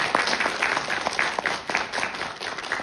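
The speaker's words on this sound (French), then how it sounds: "Il faut l'applaudir." Audience applause at the opening of an international congress in Montpellier, a dense, steady wash of many hands clapping through the whole stretch with no talk over it.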